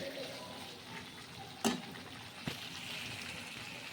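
A catla fish head fries in spices in a pan, a steady soft sizzle with two sharp clatters of a utensil partway through, close but fairly quiet.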